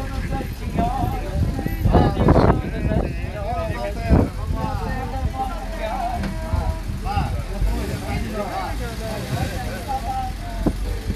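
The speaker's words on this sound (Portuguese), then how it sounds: "Lá vai o autocarro do amor." A bus pulls away during a bag festival in Caniço on Madeira, its engine a low, steady rumble under loud nearby voices talking and calling out the whole time.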